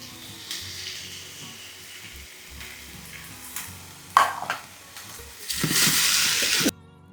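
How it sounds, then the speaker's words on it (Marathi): Pearl millet (bajra) tipped into a pan and stirred while making upma, giving a faint bed of sizzling and scraping that swells into a louder rush of frying near the end before cutting off. "so I am adding the बाजरी ॲट दिस स्टेज"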